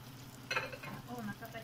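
Fish dropped into hot oil gives a quiet, brief sizzle with a soft splashy burst partway through, faint and close with no voices.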